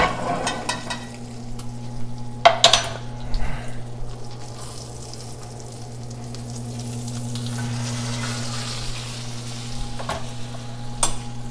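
A bone-in ribeye steak sears in a pan with butter, giving a steady sizzle and hiss with a few sharper spatters and clinks. There is a constant low hum underneath, and the sound stays fairly even and close throughout.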